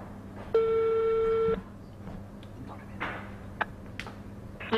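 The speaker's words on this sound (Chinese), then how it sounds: "记者多次尝试拨通海印股份董秘电话，但始终未能接通" Telephone call not getting through: a clear steady busy tone lasts about a second, followed by faint ticks and clicks on the line.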